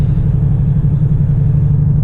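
A 1985 Chevrolet Monte Carlo engine rumbles steadily at low pitch while driving, a constant cabin drone with no voices.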